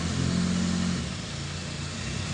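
A motorcycle engine being worked on for timing adjustment runs at a steady mid-pitched rev that eases slightly after the first second, close and loud.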